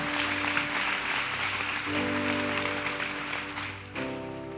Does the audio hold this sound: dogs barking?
no